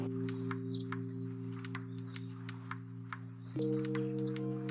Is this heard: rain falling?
no